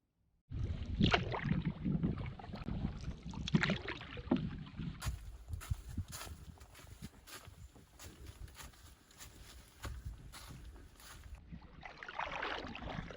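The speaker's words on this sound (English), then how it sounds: "Gonna go for a paddle to the Temagami Island old growth forest" Canoe paddled on a lake toward Temagami Island, soft repeated water splashes and paddle strokes against the hull, close and fairly quiet with light wind noise.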